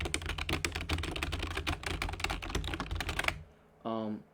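Fast, continuous typing on a CyberPower PC gaming keyboard with plain switches, dense clacking keystrokes close by, stopping suddenly before a short voice sounds at the end.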